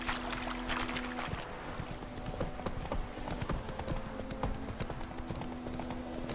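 Roach, a horse in The Witcher 3, trots along with a brisk, even clip-clop of hooves heard up close over a low, droning game backdrop.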